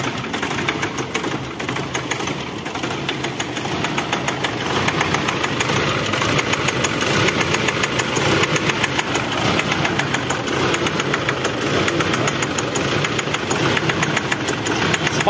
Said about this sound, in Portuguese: Esse barulho aí no motor, gente, é algum bico injetor, tá? Com problema.